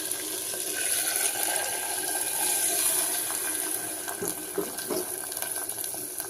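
Soaked moong dal and water poured into a cooking pot over softened onions for a drumstick-leaf dal, a steady splashing, gurgling pour with a few wet plops near the end.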